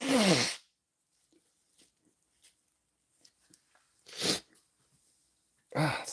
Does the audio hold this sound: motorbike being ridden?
no